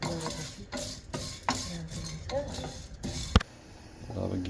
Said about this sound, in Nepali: हामीले यो लङ, सुकमेल, दालचिनी यी तीनटालाई एकैसाथ भुट्न गइरहेका छौँ।